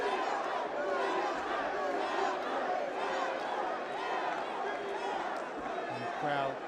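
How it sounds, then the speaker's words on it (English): Boxing arena crowd at a light heavyweight title fight, a steady dense roar of many fans yelling and cheering throughout, loud and continuous with overlapping voices. "And the crowd, a few of Shumenov fans yelling Beibut."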